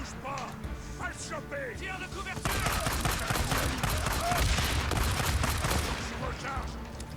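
Rapid gunfire and explosive crashes from a shooter video game, with a burst of dense, loud shots and blasts building midway and continuing steadily, while someone talks over the action throughout.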